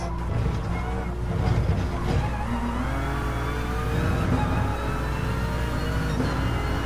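Race car in a sim racing game braking and cornering, a continuous engine drone with shifting pitch and faint tire squeal, steady and close throughout.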